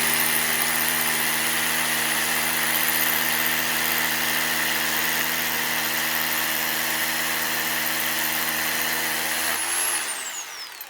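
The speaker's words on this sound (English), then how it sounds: "just doing a bit of drilling with the SDS" An SDS hammer drill bores into rock-hard stone at a barn, a loud sustained whining drone with steady mechanical buzz that winds down abruptly at the end.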